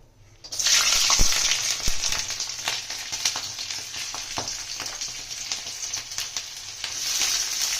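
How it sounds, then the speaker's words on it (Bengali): Garlic hits hot oil in a wok, a loud sizzle bursting in after a brief silence and then holding as a dense, crackling fry with sharp pops scattered throughout, close-up and free of talk. "তেল গরম হয়ে গেছে, আমরা রসুনটা দিয়ে দেবো।"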